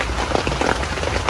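Steady rain pouring outdoors in a Bangkok backyard cooking setting, a dense broadband hiss with scattered droplet patter, continuous and fairly close, without talk.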